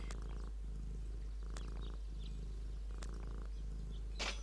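A cat purring in the Deponia adventure video game: soft, steady rhythmic purr cycles repeating about every second and a half, with a brief high chirp near the end.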